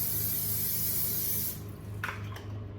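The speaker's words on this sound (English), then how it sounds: "I'm just going to spray my baking dish real quick" A steady hiss of cooking spray onto a baking dish for about a second and a half, then it stops, leaving quieter room noise and a couple of faint knocks.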